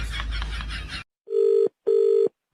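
Two electronic phone rings buzz in quick succession after a brief burst of noise, each ring a steady tone with short gaps between.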